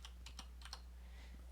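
Keystrokes on a computer keyboard as a password is entered, a quick burst of several crisp clicks followed by a pause and one more faint tap, close and alone.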